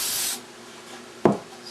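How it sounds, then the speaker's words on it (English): A short hissing burst of non-stick cooking spray onto a pan at the start, followed by quiet and a single light knock of something being set down. "I'm going to spray my pan with a non-stick"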